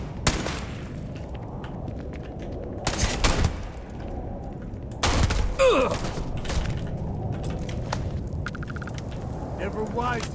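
Gunfire in the sci-fi game Starfield, several sharp loud shots and bursts striking at irregular intervals, with mechanical clatter and other game effects between them, while a player talks over the action.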